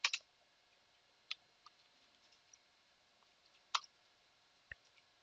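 Typing on a computer keyboard while entering a command on a CentOS 7 system: a few sparse, soft clicks and key taps spread out in a quiet room.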